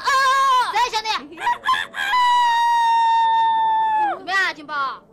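A human voice imitates a rooster's cock-a-doodle-doo, with short choppy calls and then one long sustained crow, loud and close.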